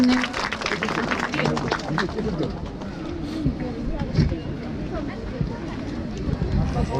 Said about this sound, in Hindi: तालियां हो जाए जोर से एक बार।